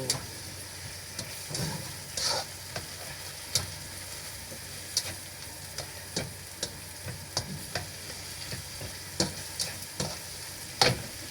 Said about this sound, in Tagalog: Tapos igisa natin yung ating munggo